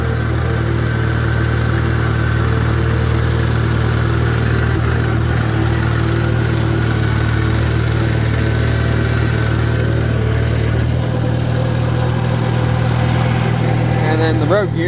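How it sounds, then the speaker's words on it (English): 1949 Farmall Super AV high-clearance tractor running, a loud steady low engine drone with a deep hum and faint whining transmission gear noise layered over it, continuous throughout. "A little bit of gear noise in the transmission"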